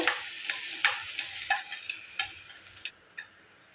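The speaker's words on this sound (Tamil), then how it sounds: "இப்போ எண்ணெய் சேர்த்துக்கலாம் எண்ணெய் காஞ்சதும் வெங்காயம் சேர்த்துக்கோங்க" Onions dropped into hot oil in a pan sizzle with a bright crackling hiss, cut by sharp scraping and stirring taps at irregular intervals, close and fairly loud before the hiss thins out, no voices.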